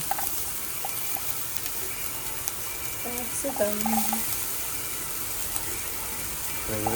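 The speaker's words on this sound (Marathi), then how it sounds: "आणि कांदा झाल्यावर आपण त्यात कॅप्सिकम टाकूया आणि सॉटे करूया असं" Onion and capsicum sauté in a pan with a moderate, steady sizzle and occasional stirring scrapes, while a voice briefly sounds over it.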